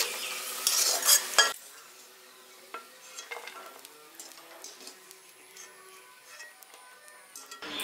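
Lightly fried cashews and raisins scooped out of a pan, a burst of scraping and rattling at the start followed by softer, scattered clinks and faint frying noise.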